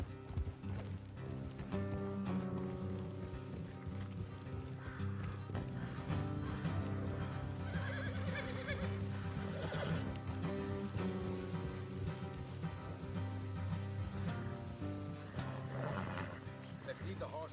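Horses in the Red Dead Redemption 2 video game, hooves clip-clopping at a walk with faint snorts, quiet under steady talk and background sound.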